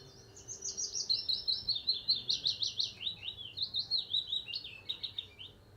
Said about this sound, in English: so that's a very long willow warbler